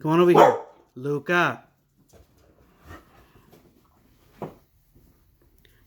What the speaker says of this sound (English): Please excuse my dog. He's just barking at a car outside.